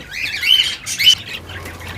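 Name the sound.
birds in breeding box, parent feeding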